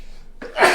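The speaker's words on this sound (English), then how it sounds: "I'm sneezing. I can't help it." A single sharp sneeze bursts out after a quiet moment, loud and close, following a short inhaled breath.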